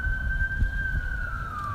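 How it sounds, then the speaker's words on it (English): A fire truck siren wails steadily near a fire station, one sustained rising-and-falling tone sliding slowly lower over a low rumble of traffic and wind. "No, that's a fire truck."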